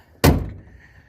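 A 1979 Fox body car door shuts once in a junkyard with a sharp, solid thunk, close and loud, then a short fading rattle.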